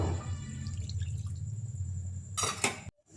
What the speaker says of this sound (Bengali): বাটিটা ধুয়ে একটু জল দিয়ে দেব